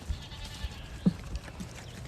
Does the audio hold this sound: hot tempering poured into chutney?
no